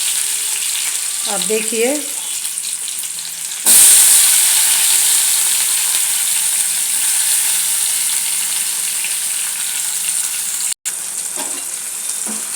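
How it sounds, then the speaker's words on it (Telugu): Whole spices hit hot oil for a tadka with a sudden loud hiss that settles into a steady close sizzle under brief talk at the start. "बघार मैंने डालता है"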